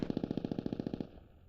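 Rapid machine gun burst in a video game scrim, about a dozen evenly spaced loud shots over one second, then a short fading tail, with no talking.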